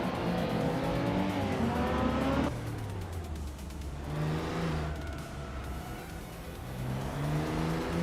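A 2003 Peugeot 206 and other race cars in a racing game, engines droning steadily and loud with rising and falling revs as cars shift gears and pass, continuous throughout with no talk.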